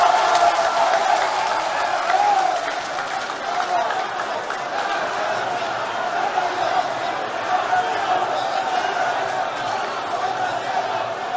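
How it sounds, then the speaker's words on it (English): A large crowd at a National Democratic Congress political rally applauds and cheers in a dense, continuous roar that holds steady throughout, with voices mixed in. "with a huge round of applause, please"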